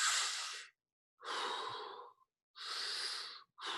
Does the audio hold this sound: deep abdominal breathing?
yes